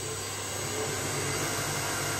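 A workshop hydraulic press motor on an inverter drive runs up during its five-second ramp, a steady broadband whirring hum that grows slightly louder and holds, with no talking.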